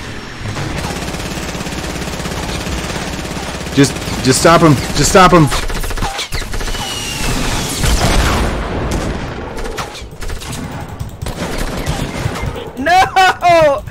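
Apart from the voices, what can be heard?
gunfire in the video game Fortnite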